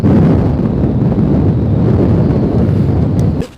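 Strong wind buffets the microphone on a bass fishing boat, a loud, steady low rumble that cuts off abruptly at the end.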